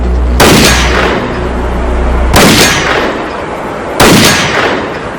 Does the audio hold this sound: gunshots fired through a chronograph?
yes